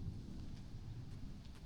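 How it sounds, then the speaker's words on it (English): Faint, distant thunder rolls as a low, steady rumble outdoors during a storm at a firewood rack, with no voices. "Now it's thundering."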